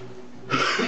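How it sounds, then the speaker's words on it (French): A single short cough bursts out after a moment of quiet room tone, close and fairly loud. "Excusez-moi, je tousse."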